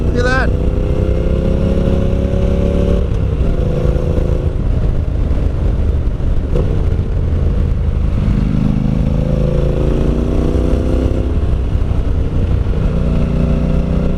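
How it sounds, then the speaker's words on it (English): A Honda NC750X motorcycle riding at speed on a gravel and dirt road, its engine droning loud and close throughout with shifts in pitch as it changes gears, over rough road and wind noise. "Look how well the bike just sits at speed in this gravel and in this dirt"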